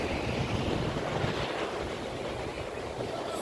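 Sea waves and a cool wind on Mandarmani sea beach make a continuous, loud, even roar of surf and wind buffeting the microphone, with no voices.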